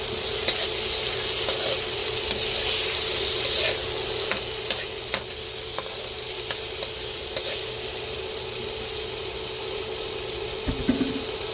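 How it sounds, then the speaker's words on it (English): Onions and vegetables sauté in a wok for a beef stir fry, with a steady, loud sizzle and occasional clicks from stirring throughout, no voices. "I'm going to let this saute for about 3 or 4 minutes until my vegetables are tender"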